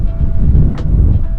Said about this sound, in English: Windy as shit, as you can tell from the water turbulence